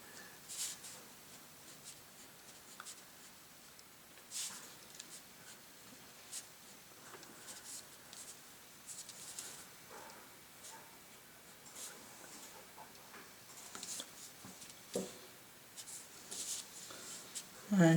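A pencil scratching out a short message on a handmade paper pencil box: faint, soft scribbling strokes with small pauses, close and quiet, with light rustling and no talk.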